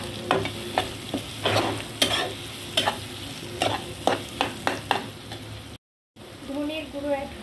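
Kashmiri red chili powder and ground coriander sizzle in hot oil as a spatula stirs and scrapes the pan in steady, regular strokes, close and fairly loud, with a brief dropout near the end.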